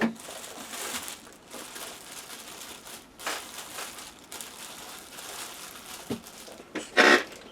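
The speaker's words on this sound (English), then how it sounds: "I'm just going to slide a plastic bag over this" Soft crinkling and rustling of a plastic bag, in irregular bursts, close and fairly quiet, with a sharper crackle near the end.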